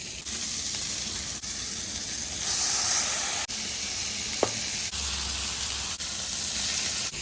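A smashed beef patty sizzles steadily on a Blackstone flat-top griddle for a patty melt, a loud continuous hiss filling the clip with a brief sharp scrape partway through and no talking.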